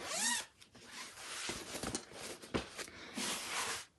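A zip on a piped cushion cover is worked back and forth in several quick rasping pulls, close and crisp, with short pauses between strokes and no talking.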